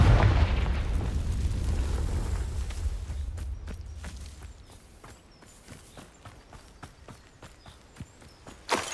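Confringo blasting spell in Hogwarts Legacy bursts with a loud low boom at the start that rumbles and fades over a few seconds, followed by scattered light footsteps and clicks.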